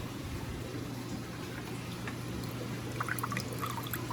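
Water dripping slowly through a tightened valve while a marine fish acclimates, a faint patter of drips over a steady hiss of flowing water in a quiet room.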